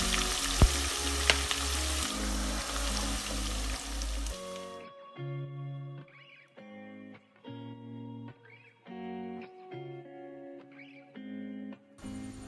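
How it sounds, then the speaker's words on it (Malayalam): Sliced onions fry in hot oil for Thalassery biriyani with a loud, steady sizzle for about five seconds, then music takes over. "ഓയിൽ നല്ലോണം ചൂടായി വന്നാൽ ഇതിലേക്ക് നമ്മൾ നേരത്തെ സ്ലൈസ് ചെയ്ത് വെച്ചിട്ടുള്ള ഉള്ളി ഇട്ട് കൊടുക്കാം."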